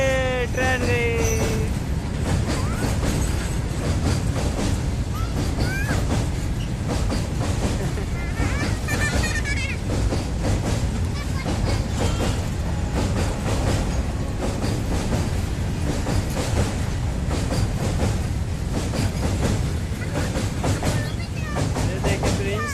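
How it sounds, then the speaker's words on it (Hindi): A train rolls past on rails, making a dense, steady rumble with rhythmic clatter that continues loudly throughout, while a person talks over it. "ये ट्रेन गई।"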